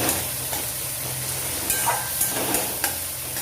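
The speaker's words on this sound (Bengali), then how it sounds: "পেঁয়াজ ভালো করে ভাজা ভাজা হবে।" Onions fry in a hot pan with a continuous close sizzle and hiss, broken by a few sharp stirring clinks and scrapes at irregular moments, with no voices.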